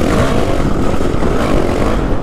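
A dirt bike engine revving hard on a trail, one loud, close, continuous roar that holds steady throughout with a rough, gritty texture.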